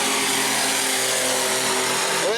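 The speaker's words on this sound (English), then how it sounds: "Listen to that horsepower as they race down into turn number 1" Race car engines roar loud and close as stock cars accelerate down into turn one on the restart with two laps to go at New Smyrna speedway, a steady dense roar with a rising pitch sweep near the end.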